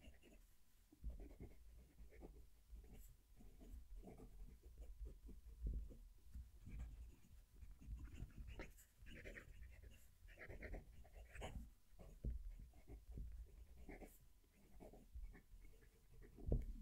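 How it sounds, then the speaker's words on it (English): Broad nib fountain pen scratching across paper with a close microphone, a steady run of soft strokes and scrapes with some strokes pressed harder, over low background rumble. "I'll move the mic down to the paper so you can hear the pen write."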